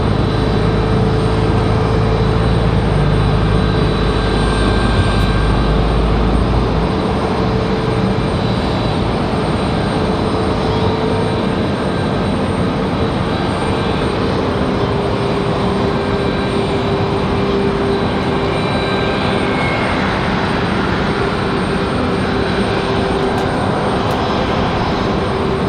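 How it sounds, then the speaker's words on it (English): Delta Boeing 737-900 jet arriving at Raleigh-Durham, a loud continuous engine drone with a deep rumble that eases slightly after the opening seconds. "Delta 689 coming in from Los Angeles, California"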